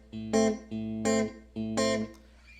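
Acoustic guitar picking the rhythm pattern from the intro of a song, three repeated strummed chord groups with low bass notes under bright upper strums, close and clear.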